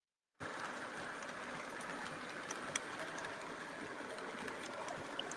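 A Lionel model train with E6 locomotive units pulls MTH Premier passenger cars, giving a faint, steady rolling rumble with occasional small clicks and no voices.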